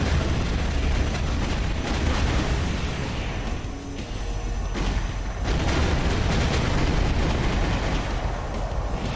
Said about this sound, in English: this gunshot sound is the same one used for the Magnum pistols in Resident Evil Umbrella Chronicles.